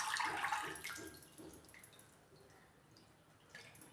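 Grated sabudana shreds are lifted out of a bowl of water, starting with a brief splashy pour that thins into a few scattered, faint drips.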